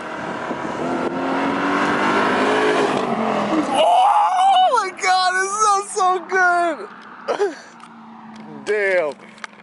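A car fitted with a newly installed aftermarket exhaust: a sustained engine rumble at first, then after a sudden cutoff a string of sharp, rising-and-falling revs with gaps between them, close and loud, with people talking nearby.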